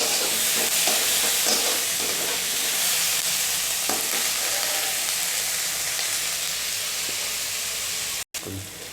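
Chopped onion sizzles steadily in hot oil for a tempering for chuda upama, a loud, even frying hiss with faint stirring scrapes, cutting off briefly near the end.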